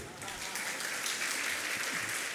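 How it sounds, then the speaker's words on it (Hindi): An audience at a Jain religious discourse by Muni Pramansagar claps together, a dense, fairly quiet patter of hands that swells slightly and holds steady. "बजाओ तो ताली।"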